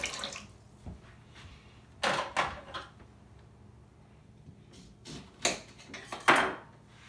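Ginger and a whole lemon are rinsed under running water, giving short splashy bursts of tap flow with quiet gaps between them, nearby and fairly soft.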